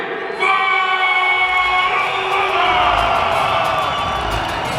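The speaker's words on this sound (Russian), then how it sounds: "Зал взрывается аплодисментами." A boxing hall crowd at a professional debut bout in Yakutia bursts into loud cheering, whoops and applause, swelling suddenly and holding as a dense roar, with shouted voices rising above the clapping.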